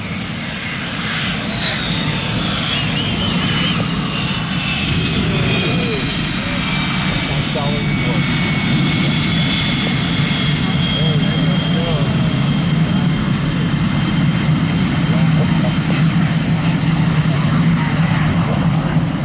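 Blue Angels jets flying over Pensacola NAS make a loud, continuous roar that swells and sweeps across the whole stretch, heard from the ground at an air show.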